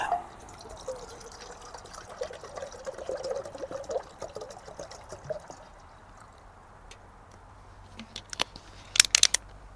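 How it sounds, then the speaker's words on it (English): Water poured into the canister of a Hotdevil 1.4L backpacking camping stove, a soft trickling splash that runs for several seconds, fades out, and ends with a few sharp clinks of the pot. "So let's go ahead and dump the water in, and then we will get it started."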